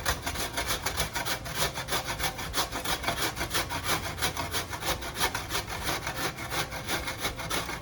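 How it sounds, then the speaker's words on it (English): Fresh zucchini rubbed down a handheld grater and shredder for tropical zucchini bread, giving a close, rhythmic rasping scrape that repeats in quick, even strokes throughout, with no talking. "just take a grater, shredder, and begin"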